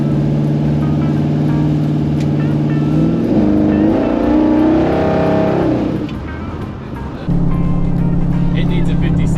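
A car with a Big Block Chevy 540 engine and Holley 4150 carburetor revs up through the gears into third, the loud rumbling engine rising in pitch, easing off, then pulling again, with someone talking over it.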